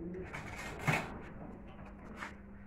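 A male domestic pigeon of the high-flying Giribaz breed coos softly in a loft, giving a few faint, low throaty calls in quiet surroundings.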